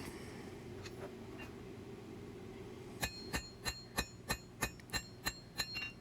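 A hammer forges a double-edged Arkansas toothpick knife blade by hand: after a few seconds of low workshop hum, about ten sharp, ringing metallic strikes land in a steady, even rhythm, loud and close, with no talk.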